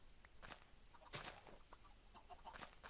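Chickens cluck in the video game Minecraft, a few short, faint clucks scattered over a quiet background with no talk.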